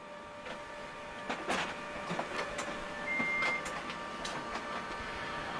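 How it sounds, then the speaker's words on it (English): Printer feeding paper beside a Murphy BU183M valve radio under repair, a run of rhythmic clicks and mechanical whirs with a brief tone midway, fairly close. "my printer's churning out loads of paper"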